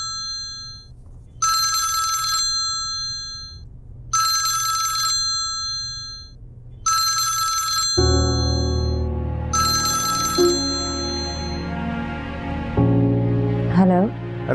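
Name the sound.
phone ringing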